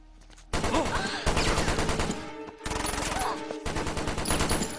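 Rapid machine-gun fire from the film Speed Racer rattles in several dense bursts separated by brief breaks, loud and close, mixed with a film soundtrack.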